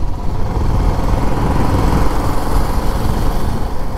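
A motorbike engine drones steadily and loudly throughout on a ride toward a bridge past green village scenery and coconut trees near Bokkhali, with constant wind and road rumble and no talk.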